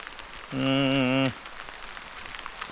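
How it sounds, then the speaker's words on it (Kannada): Heavy rain at harvest time hisses steadily throughout, broken by a loud droning tone, like a voice or horn, lasting under a second. "ಮಳೆ ಜೋರಾಗಿ ಸ್ಟಾರ್ಟ್ ಆಯ್ತು"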